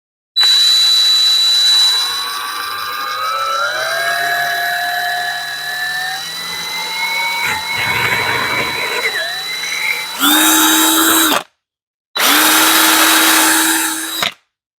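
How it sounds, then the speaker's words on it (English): A power drill whines up to speed, its pitch rising, followed by two short loud bursts of drilling separated by a pause, drilling a pilot hole for wheel well lips on a 2021 Toyota Supra. "So after I drill a pilot hole"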